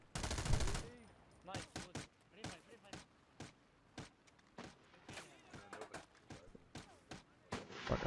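Gunfire in America's Army: Proving Grounds, a long string of sharp, evenly spaced single shots with a loud blast at the start, all crisp and close with short gaps between them.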